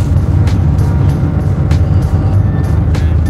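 A car drives along at a racetrack paddock for the Aurum 1006 km endurance race, a loud steady interior engine and road rumble with occasional brief clicks and knocks.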